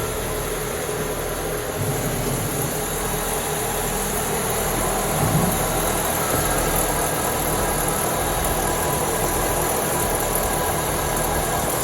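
A GM car with a failing wheel bearing gives off a steady mechanical hum and drone. The sound is continuous and fairly loud, with faint rattling and nobody speaking.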